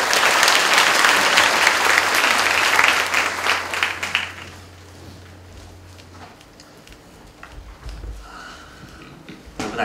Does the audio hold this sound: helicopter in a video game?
no